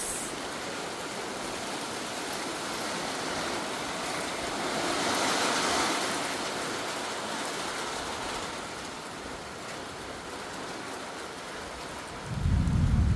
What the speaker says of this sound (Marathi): आणि हा बघा गावचा पहिला पाऊस.